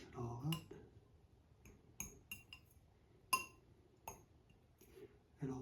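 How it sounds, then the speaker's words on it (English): Tuna snack ingredients are stirred together in a bowl, with a run of close, scattered utensil clinks and scrapes against dish as the mixture is worked, separated by brief quiet gaps. "And you just mix it all up."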